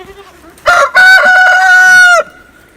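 A rooster gives one loud, close crow of about a second and a half, set against a quiet farmyard with faint background sounds before and after.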